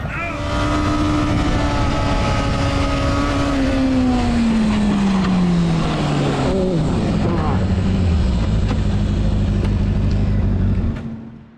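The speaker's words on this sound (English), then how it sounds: "This BMW M4 test drive went terribly wrong when the driver lost control and turned one small mistake into a very expensive crash." A BMW M4 on a test drive roars loudly as its engine pitch sweeps steadily downward, as if losing speed while the driver loses control. Rough, noisy bursts follow before the sound cuts off abruptly near the end.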